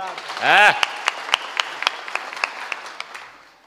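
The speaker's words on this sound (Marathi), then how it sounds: "म्हणून एकदा शिंदे साहेबासाठी टाळ्या वाजवा" At a kirtan gathering, an audience claps for police officer Shinde: a voice rings out briefly at the start, then sparse individual claps follow at a loose rhythm and thin out toward the end.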